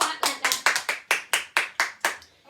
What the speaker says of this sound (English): Give yourselves a big, big clap like that.